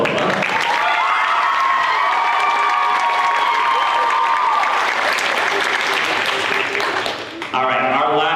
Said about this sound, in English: Another round of applause for the band and our two trumpet soloists